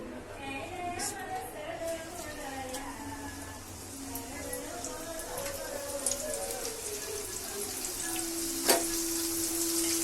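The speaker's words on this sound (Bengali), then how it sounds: "আমি এখন আলু তেলের মধ্যে দিয়ে দিচ্ছি" Oil sizzles and crackles steadily as slices fry close by, with faint voices murmuring in the background.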